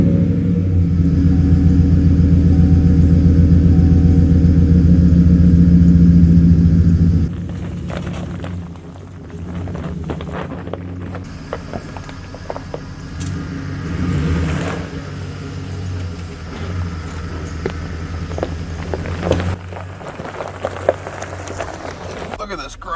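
A pickup truck idles with a loud, low rumble, then cuts to quieter driving with road noise and scattered knocks and clicks, with someone speaking at times over it.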